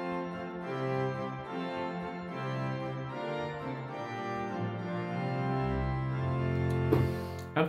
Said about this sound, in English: We can turn the tremulant off and pull out all these stops of this manual.